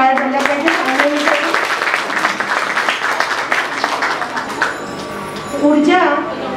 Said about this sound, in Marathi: मग एकदा जोरदार टाळ्या झाल्या पाहिजे.